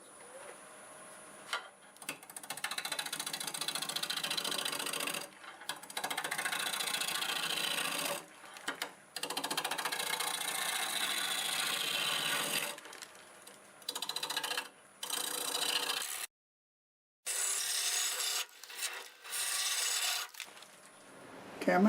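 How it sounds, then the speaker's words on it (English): A black walnut blank spun on a wood lathe at about 890 RPM, cut with a 1.25-inch spindle roughing gouge: loud sustained scraping and rasping in long passes, broken by brief gaps where the tool lifts away. "we're going to start out with a tool that I don't use all that often, but it's a spindle roughing gouge."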